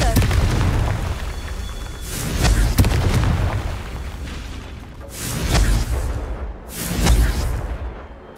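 Confringo fire spell explosions in the Hogwarts Legacy video game, Merlin Trials on Clagmar Coast: three deep booming blasts a second or two apart, loud and rumbling, with a voice and game sounds between them.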